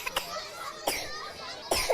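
A child gives three short coughs spaced apart, with faint children's voices and play noise behind them.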